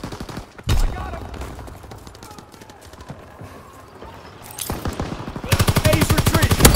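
Rapid bursts of automatic gunfire from a battlefield shooter game: a sharp volley near the start, quieter scattered shots through the middle, then a dense, loud sustained rattle of machine-gun fire at the end.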